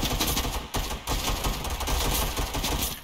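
Rapid automatic gunfire and bursts of shots from the CS:GO Dust 2 map recreated in Fortnite, loud and nearly continuous over three seconds with a brief gap, no talking.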